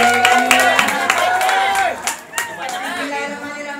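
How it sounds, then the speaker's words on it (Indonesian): Guests at a wedding reception break into applause, scattered clapping and crowd chatter running under a loud voice on a microphone. "Yang lain tepuk tangan yang meriah"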